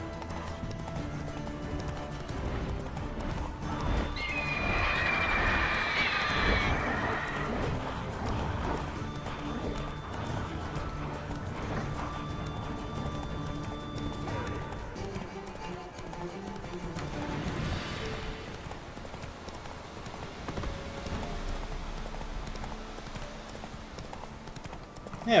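Roach, the horse in The Witcher 3, gallops with a steady, rapid clip-clop of hooves that stays loud and continuous throughout, with a brief whinny partway through and no talking.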